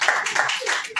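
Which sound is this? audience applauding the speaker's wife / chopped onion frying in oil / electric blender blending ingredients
audience applauding the speaker's wife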